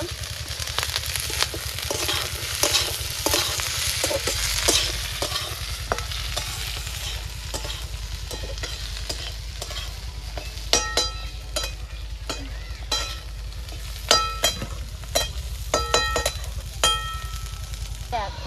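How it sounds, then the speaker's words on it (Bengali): Cashew nuts and raisins frying together in hot oil, a continuous close sizzle with repeated sharp clinks and scrapes of a spatula against the pan, growing busier toward the end. "কাজু বাদাম কিশমিশ একসাথে ভেজে নেব"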